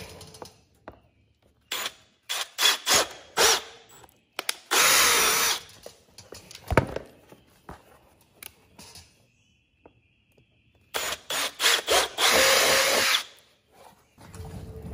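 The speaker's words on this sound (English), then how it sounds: "I normally drill those out, and for the most part they work." A power drill whines in several bursts while drilling holes in a Harley Sportster motorcycle fender, two long loud runs and shorter spurts between them, with quieter handling noise and pauses in between.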